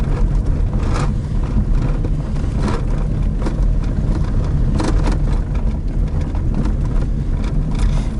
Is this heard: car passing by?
yes